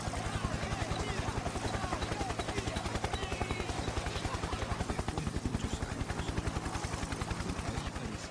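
A helicopter carrying presidents away from the presidential palace thuds with a steady, rapid rotor pulse throughout, while someone narrates over it.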